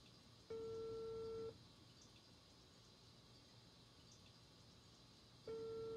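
A video game telephone's dial tone sounds twice, a steady electronic tone lasting about a second at the start and returning near the end, over a low, noisy background hum.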